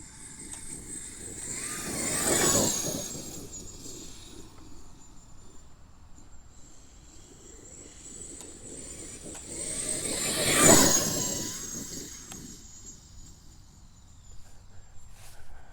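A Traxxas X-Maxx RC truck fitted with Vitavon 1.5 mod gears makes two flybys, each a whining electric-motor rush that swells and fades, with a steady high tone and outdoor insect noise between passes.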